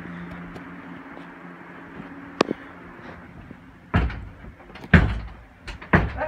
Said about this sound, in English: That door is locked.